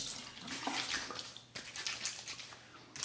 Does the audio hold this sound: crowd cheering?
no